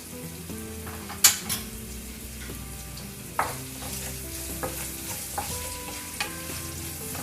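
Onions with sugar and salt frying in a pan for restaurant-style mixed vegetables give a steady close sizzle, with utensil scrapes and a few sharp clinks of a spoon against the pan.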